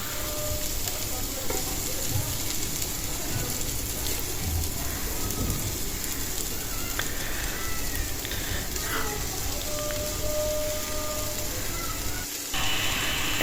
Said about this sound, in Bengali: এই যে এক এক করে সিম, কপি, আলু মাখানো দিয়ে দিলাম।